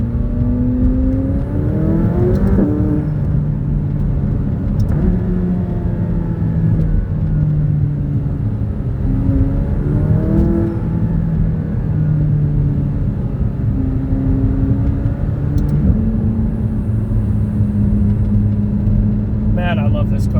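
A McLaren's engine rises and falls through repeated accelerations and gear changes on a drive, loud and close, with a continuous low rumble from the road.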